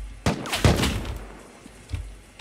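AK rifle fire in the survival game Rust comes as a few sharp, booming shots with heavy low thumps, spaced out over a couple of seconds.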